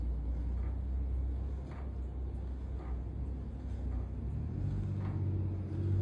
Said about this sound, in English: This wheel's beginning to groan a little bit